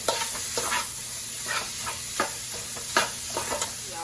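Ground beef browns in a pan with a constant close sizzle while a utensil breaks it into crumbles, giving repeated scraping strokes at an irregular pace.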